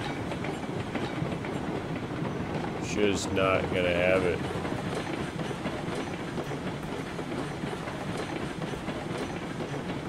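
Train rolling along rails in the video game RailRoads Online, a steady broadband rumble running throughout the clip, with a brief stretch of talk near the middle.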